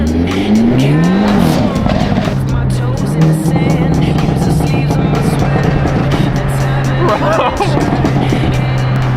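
A loud car engine with a fully opened exhaust revs and drones steadily, pitch rising then holding, with tire squeal and crowd babble mixed in throughout.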